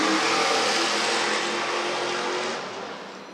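Race car number 83 powers hard out of turn 11 during qualifying at Nashville, a loud broadband engine roar rushing close by and then fading away as it pulls off.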